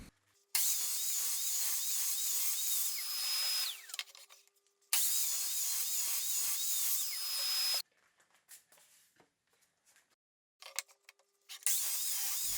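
A miter saw cuts Nordic pine beams into stair steps, with two long, loud whining cuts that each run about three seconds, followed by quieter handling clatter and the start of a third cut.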